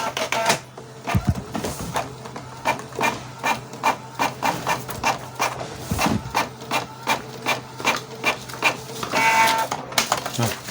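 Office printer running a test page: rapid rhythmic mechanical passes of the print head shuttle back and forth, with a couple of louder clunks from the paper feed and a steady motor hum underneath, close and clear.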